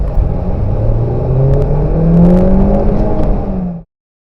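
A Honda Amaze with a water-cooled inline four-cylinder i-VTEC engine drives along, its loud, close engine hum rising steadily as the car accelerates for about four seconds before cutting off abruptly.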